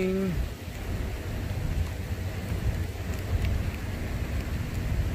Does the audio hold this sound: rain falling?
yes